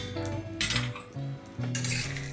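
A utensil scrapes and clinks against a wok as almonds are stirred in hot ghee, with a steady low hum underneath and two louder bursts of scraping.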